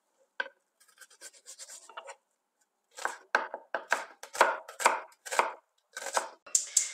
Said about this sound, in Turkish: Önce bir adet kuru soğanımızı yemeklik olarak minik minik doğruyoruz